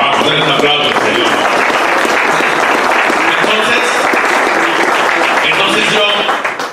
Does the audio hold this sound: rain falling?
no